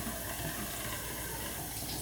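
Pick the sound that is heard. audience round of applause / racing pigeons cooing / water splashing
water splashing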